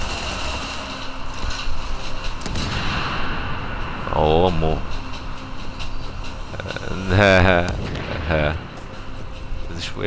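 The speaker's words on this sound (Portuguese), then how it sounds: "Efeito de explosão bonito" Explosion effects from the video game The Division burst out in two loud, rumbling blasts with crackling debris, set against ongoing gunfire and game ambience, with talk underneath.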